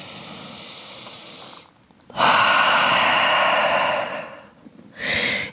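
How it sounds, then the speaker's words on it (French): A deep breath taken in a yoga downward dog pose: a long airy exhale, a brief pause, then a strong rushing inhale, and another breath starting at the end, close and alone. "On prend juste une grande respiration en chien tête en bas."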